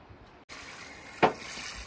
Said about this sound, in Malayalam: പാത്രമൊക്കെ ഒന്ന് നനയ്ക്കുന്നു